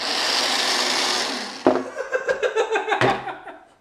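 A pasta machine mixes dough with strawberry coulis. A steady motor whir runs, then cuts off into a series of rhythmic knocking and churning bursts with sharp clunks, loud and close.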